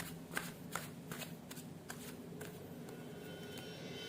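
Tarot cards shuffled by hand at close range, soft rhythmic riffling bursts repeating about every half second, quiet and clear with no talking over them.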